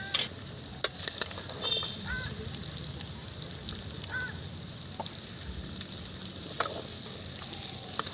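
Fried tripe and potatoes are lifted out of sizzling oil, a constant crackling fry under occasional light clinks and scrapes of a utensil against the pan.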